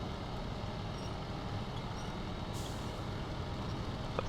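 A heavy truck in the video game SnowRunner rumbles steadily as it maneuvers through mud, a constant low engine drone with a brief hiss of air brakes partway through.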